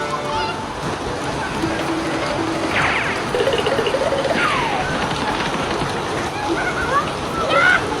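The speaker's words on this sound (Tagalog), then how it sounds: "Ang sarap naman ng ulan, Mateo" Steady rain pouring and splashing, with water sloshing and a few brief clatters over the continuous hiss.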